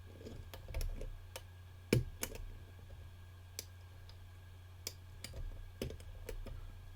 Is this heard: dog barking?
no